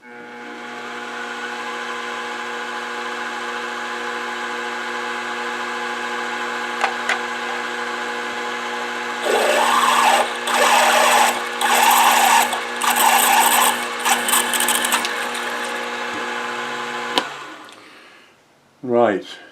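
A milling machine drilling holes in a metal mill table stop runs with a steady whining motor hum. A burst of rough cutting chatter comes in the middle, and the motor then spins down to a stop near the end.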